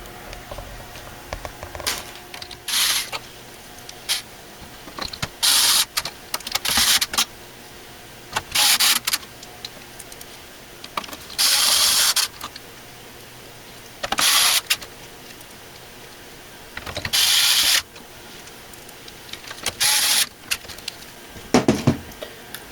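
Parts are fastened back into a PC case while a motherboard is secured: a series of short, bright whirring bursts, each about a second long, separated by quiet pauses in an irregular rhythm.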